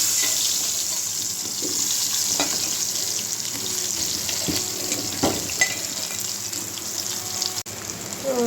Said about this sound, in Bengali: এখন আমি তেলের মধ্যে বেগুনটা ভেজে নেব।